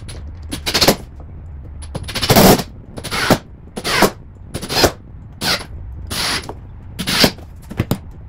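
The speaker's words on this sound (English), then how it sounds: "I'll be using my impact driver fitted with the Phillips head tip to help speed along this process" An impact driver with a Phillips tip drives screws during foosball table assembly, loud and close, in a string of rapid hammering bursts with brief pauses between, some bursts longer than others.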